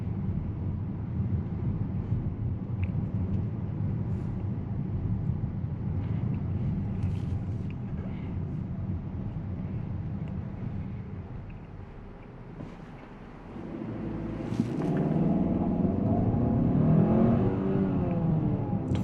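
Inside a 2024 Hyundai Santa Fe with a 277-horsepower engine, a steady road and engine drone dips, then swells as the SUV accelerates along the road, with wind noise and no talking.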